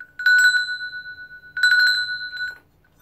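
A small hand bell is rung twice, each ring a quick bright burst of trills that fade out, loud and close against silence.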